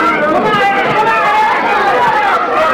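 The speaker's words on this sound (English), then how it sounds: "There's a contingent from Youngstown, Ohio, and you can hear them in the background hollering, Harry, Harry." Boxing crowd at a Robin Blake vs Harry Arroyo fight in Fort Worth, with a Youngstown, Ohio contingent chanting for Harry, heard as a constant rumbling crowd hubbub and babble beneath close commentary.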